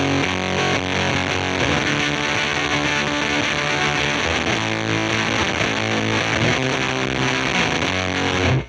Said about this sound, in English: It sounds a lot noisier. You can hear the hiss is a lot louder than it was